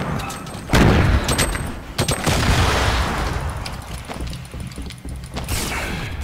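Grenade blasts and bursts of gunfire in a Fortnite battle, several heavy booms and rapid shot volleys in close succession, loud and up close with clattering mechanical sounds between them.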